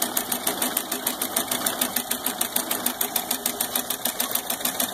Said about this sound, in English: little model of a steam engine. Don't know if an electric motor, the little switch they got rigged up.